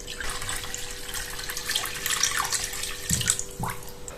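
Water pours steadily into a cooking pot to cover stuffed vine leaves (dolmades), a close, continuous splashing stream with a couple of brief gurgles, and no talking.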